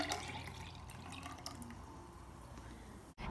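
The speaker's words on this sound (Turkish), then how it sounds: "Ben bunu şöyle büyükçe bir bardağa dökeceğim." A homemade yogurt drink is poured into a large glass, giving a soft, faint liquid trickle with light splashy detail that runs steadily and then cuts off abruptly near the end.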